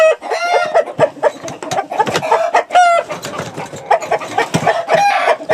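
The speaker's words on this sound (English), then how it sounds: "Oh, that's beautiful rooster." Chickens cluck and squawk close by in a busy, continuous chorus, with a rooster's calls rising above the hens.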